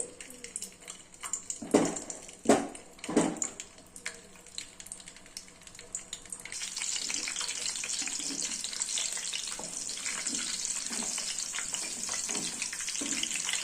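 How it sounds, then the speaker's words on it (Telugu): A few clattering knocks, then a steady, loud hiss of amla (Indian gooseberry) pieces frying in hot oil for pickle, sizzling continuously close by. "అన్ని నూనెలో వేసుకొని గోలించుకోవాలి"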